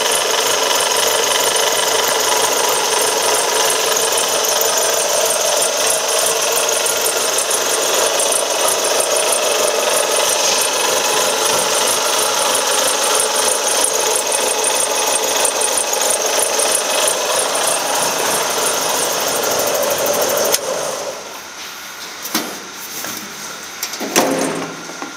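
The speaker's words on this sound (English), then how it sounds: "listen to the engine." A fully restored 1966 Jeep Mutt military vehicle engine runs steadily at idle, a loud continuous mechanical drone with a faint ratcheting clatter, then cuts off abruptly near the end, leaving quieter scattered handling noise.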